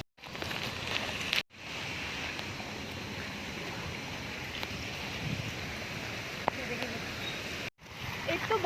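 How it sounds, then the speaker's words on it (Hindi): Heavy rain pours steadily through a dark night, a dense continuous wash that stays loud and unbroken apart from a couple of brief dropouts. "एक तो बारिश इतनी ज़्यादा हो रही है कि बता नहीं सकते"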